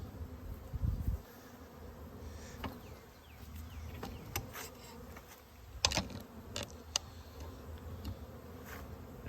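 Honey bees scooped by the cupful into the compartments of mini mating nucs give a steady, close buzzing hum, broken by a few sharp clicks and knocks of the scoop and equipment.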